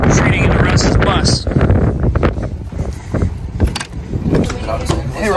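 Strong wind at Glamis dunes buffets the microphone in loud, gusty rumbles, with people talking over it.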